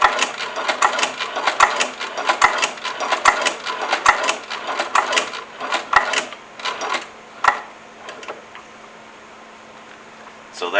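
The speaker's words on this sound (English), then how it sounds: "I'll back stitch that whole area that I just stitched" A sewing machine back stitches fabric for a stick horse in quick bursts of rapid mechanical clatter, with regular sharp clicks between runs, then trails off into quieter handling sounds.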